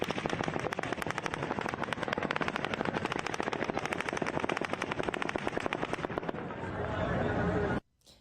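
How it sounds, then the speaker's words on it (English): Automatic gunfire during the Las Vegas shooting, a long volley of rapid, evenly spaced shots sounding from a distance, then a rising mechanical roar before it cuts off abruptly. "At 10:13 and 30 seconds, the 10th volley of automatic gunfire begins."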